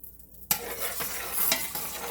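Pancake batter from a Food Line brand mix hits a hot pancake skillet with a sudden broadband sizzle that starts abruptly and holds steady, close and fairly loud, with no talking.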